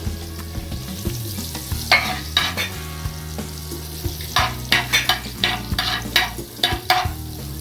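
Whole spices, including a piece of cinnamon, hit hot oil with a sizzling hiss, followed by a series of stirring scrapes and clatters in a pan, close and fairly loud.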